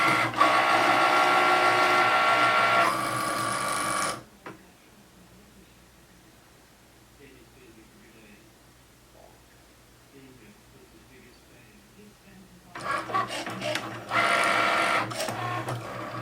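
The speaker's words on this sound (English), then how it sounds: "we're just going to go ahead and click on the little Cricut button and begin our cutting" A Cricut cutting machine cuts vinyl for a wood project, producing loud, steady motorized whirring in two bursts, at the start and at the end, separated by a long quiet pause with faint small noises.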